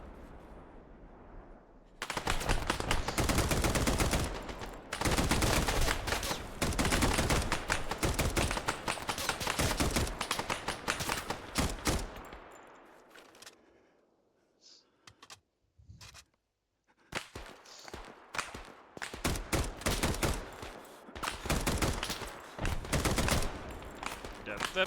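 Suppressive machine gun fire in the video game Arma 3: long, loud automatic bursts rattle on, thin out into a lull with scattered shots, then resume in fresh sustained volleys.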